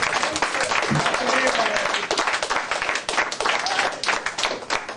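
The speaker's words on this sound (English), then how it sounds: "Let's get another little round of applause there, okay?" A stand-up comedy crowd applauding steadily, dense clapping filling the space for several seconds with a voice faintly underneath.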